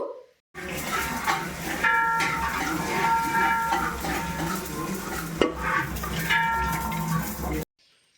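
Fennel seeds dry-roast in a pan and are stirred with a metal spoon, giving repeated scraping strokes and a crackly rustle, with a sharp clink midway. Nobody speaks.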